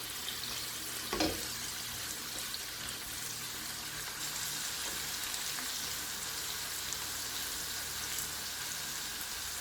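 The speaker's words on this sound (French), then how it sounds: "je vais mélanger maintenant avec les poissons pour laisser mijoter encore 15 minutes" Salted fish makayabu simmering in a pot gives a soft, steady sizzle throughout, with one brief knock of the stirring spoon near the start.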